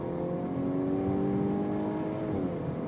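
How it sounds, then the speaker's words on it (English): A 2026 VW Golf R engine revs steadily upward, then its dual-clutch automatic upshifts near the end with a quick drop in pitch, heard from inside the cabin as a smooth, moderately loud hum. "The only problem is that even in manual mode, it will still auto upshift."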